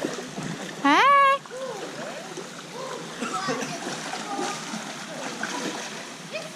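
Splashing in a swimming pool at a pool party, with intermittent sloshes and splatters of water under children's shrill voices and shouts.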